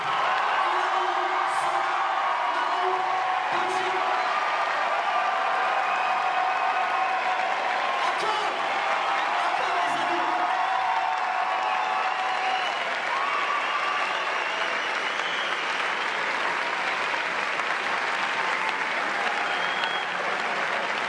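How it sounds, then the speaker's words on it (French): A large audience at a magic show roars with sustained applause, whoops and cheers for a group of Sherpas, a thick, continuous wall of clapping and shouting over twenty seconds. "Faites un tonnerre d'applaudissements pour les Sherpas."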